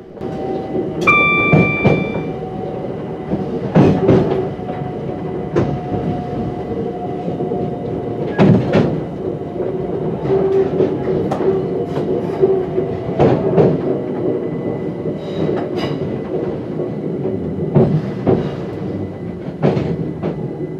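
A London Overground train runs on rails across the West Coast Main Line with a loud continuous rumble. Rhythmic clacks from the wheels over rail joints recur throughout, and a brief tonal squeal comes early on.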